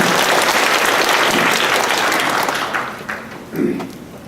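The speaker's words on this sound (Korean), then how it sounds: "중고등부를 위해서 격려 박수 한번 해주세요." A church congregation bursts into encouraging applause for its youth group, a full dense clapping sound that fades toward the end as a short voice breaks in.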